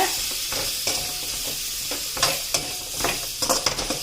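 Home-grown radish pieces sauté with masala in a pan, giving a close, lively sizzle punctuated by repeated scraping stirs and several sharp spoon knocks.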